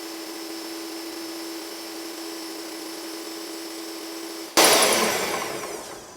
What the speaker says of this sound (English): I'm going to put the mixer up really fast, just for 30 seconds